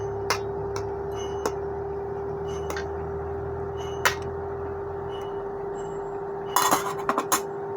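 A spoon stirs a pot of pointed gourd and shrimp curry, giving sparse light clinks and taps against the pot over a steady hum. Several sharper clatters come near the end.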